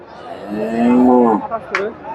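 Cattle lowing at a busy Friesian bull market at Dhaper Hat in Bogura, a single long, loud moo close by, followed by a shorter call and faint background bustle.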